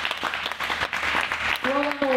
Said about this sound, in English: je vous demande de les applaudir, nos deux cavaliers, la Tim et Boyd et Pascal.